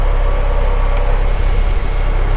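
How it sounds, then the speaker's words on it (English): Idling engine of a 1988 Toyota MR2 AW11 running an air-to-air intercooler: a steady, close, continuous low rumble with a slight uneven pulse, no talk over it. "And here's the engine on it."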